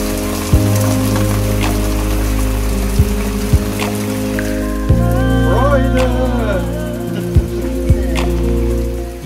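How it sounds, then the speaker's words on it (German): Steady rain patters on a surface during a bicycle tour in the Netherlands, with occasional louder drips and thumps, under a constant low hum and a brief tonal whine in the middle. "Jetzt hat uns der Regen doch noch erwischt und wir werden richtig nass."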